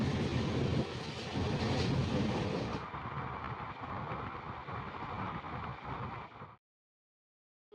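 The Dibrugarh–Kanyakumari Vivek Express (22504) rolls along with a steady, broad rumble and rattle heard from on board, shifting partway through, then cutting off abruptly near the end.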